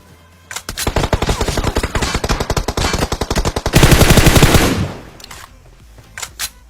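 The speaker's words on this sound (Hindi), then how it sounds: "मुझे आगे से गोली चलने की आवाज आती है" Rapid automatic gunfire in the battle royale video game PUBG, a loud sustained burst of shots that swells into a dense roar, then fades, followed by a couple of brief distant shots.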